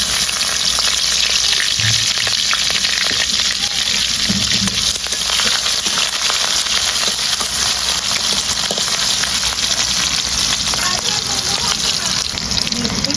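Chopped onion with dried red chillies sizzles steadily in a pan, a dense, continuous frying hiss that stays loud and close throughout with no break. The dish is a Bengali-style taro stem and dheki greens curry with crab.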